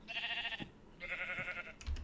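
Sheep in a video game giving two short wavering bleats about a second apart, close and alone, followed by a faint knock.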